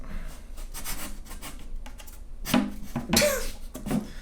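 Wood on an acoustic guitar body gives sharp, dry cracks and creaks while it is being closed up, with a few scattered clicks and then two louder snaps close by.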